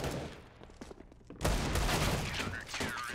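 CZ75 pistol fire in Counter-Strike on the Mirage map comes in a burst of rapid, sharp gunshots, followed by a louder sustained flurry of gunfire. A commentator talks faintly beneath the shots.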